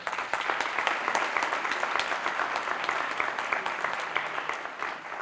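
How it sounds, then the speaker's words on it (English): Guests at an Upward Bound awards banquet applaud for a lifetime achievement award winner, a steady, moderately distant wash of clapping that holds evenly for about five seconds. "Give him a round of applause."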